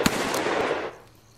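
Revolver gunfire in the Roblox Wild West video game, a single sharp close shot with a short rattling burst that decays into quiet within about a second.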